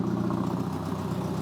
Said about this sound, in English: now that we've got it fired up, it is not really idling out of the ordinary